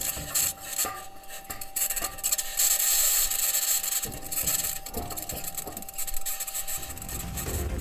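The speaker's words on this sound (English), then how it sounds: "Perseverance has captured an unidentified, high-pitched scratching sound." Unexplained high-pitched scratching captured on Mars by the Perseverance rover: a steady, harsh raspy grinding that persists throughout, with bright hiss and irregular rubbing textures, loud and continuous with no voices.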